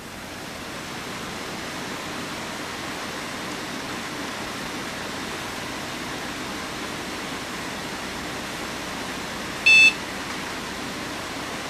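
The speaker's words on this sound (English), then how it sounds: "Get a beep." Short electronic startup beep from an HP Pavilion 3260 desktop computer, a single brief tone rising alone over steady fan and hard-drive hiss.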